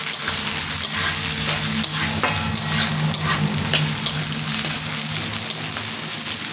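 A whole bay leaf frying in hot oil for a Bengali potato curry (aloo dum): a steady, dense sizzle and crackle that holds throughout, with no talk.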